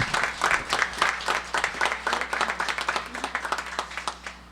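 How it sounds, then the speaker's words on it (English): An audience claps steadily at a music event, a room of hands with individual claps standing out, sustained and fairly close throughout without any talking. "give the biggest round of applause for Deirdre"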